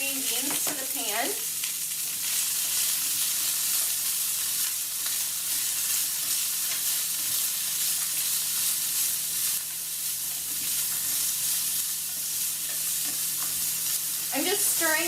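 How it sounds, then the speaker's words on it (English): Green beans tossed into a hot pan with garlic crackle in a bright, continuous sizzle while being stirred, with a voice briefly heard at the start and end. "we're going to add our green beans to the pan"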